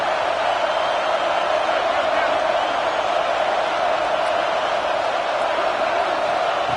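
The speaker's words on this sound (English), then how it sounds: "And the crowd coming to life here, trying to help this defense down in the red zone." A football stadium crowd at a Notre Dame versus LSU game roars as the defense works in the red zone, a dense, steady wash of cheering that fills the whole stretch without letup.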